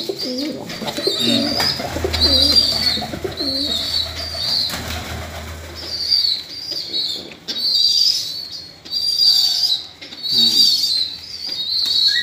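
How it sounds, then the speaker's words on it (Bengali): Soft, low coos of Giribaz highflyer pigeons roll on repeatedly, mixed with sharper high chirps and occasional wing flutters nearby. "এই জোড়াও নাসিমেরই দেওয়া, খুব ভালো সেটিং করা পায়রা দিয়েছে।"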